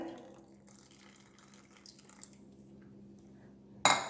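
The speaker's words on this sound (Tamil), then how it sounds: "இதில் இன்னும் கொஞ்சம் தண்ணி விடுறேன் பாருங்கள்." Water trickles and pours softly into a container while making homemade ghee, at low volume, ending with a sudden sharp clink of glass or metal.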